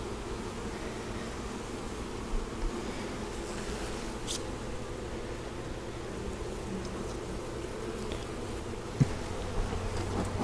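Honeybees from a nucleus colony being installed into a hive box outdoors, a dense continuous buzz of many insects at close range, steady throughout with a faint tap near the end.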